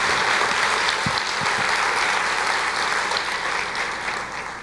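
A church congregation applauding during a sermon, a dense continuous wash of clapping that fills the room, loud and sustained, tapering slightly toward the end.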